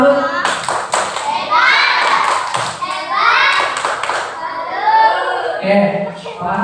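Young schoolchildren in a second-grade math class clap out a rhythmic salute together: bursts of sharp, close claps in a repeating pattern, mixed with lively children's chanting voices and a few thumps.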